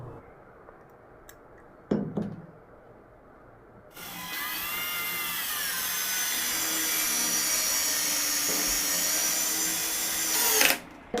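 A compact impact drill with a metal chuck, set to screwdriver mode in first gear, gives a few clicks, then spins up into a steady, close, high whine for about seven seconds before stopping.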